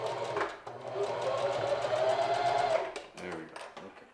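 A sewing machine runs steadily for about three seconds, stitching athletic-type shorts fabric, close and fairly loud, then stops with a few short handling noises.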